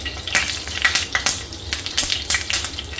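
Mustard seeds crackle and pop in hot oil for a tempering, a close, loud run of sharp sputtering bursts coming in quick irregular clusters over a steady hiss.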